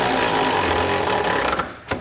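A power tool whirs steadily while tightening bolts on a B and W fifth wheel hitch base rail in a 2019 GMC truck bed, a loud continuous buzz that cuts off near the end, followed by a brief final burst.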